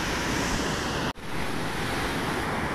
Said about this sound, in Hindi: बहुत ही तेज़ पानी चल रहा है,